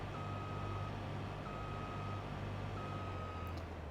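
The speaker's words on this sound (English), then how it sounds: "We're actually gonna have to get the we're gonna have to get that truck in the field." A truck in Farming Simulator 22 backs up during a soybean harvest, its reversing alarm sounding in long, evenly spaced beeps over a low, steady engine drone.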